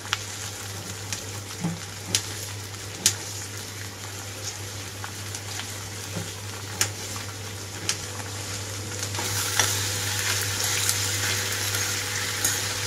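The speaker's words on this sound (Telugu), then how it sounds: "ఇప్పుడు ఇదే ఆయిల్లో క్యాబేజీ అలాగే టమాటో కూడా వేసి వేయించుకుంటున్నాను." Cabbage pieces and tomato frying in hot oil for a pickle, a soft continuous sizzle with scattered sharp clicks and taps from the pan, growing slightly denser toward the end, with no talking.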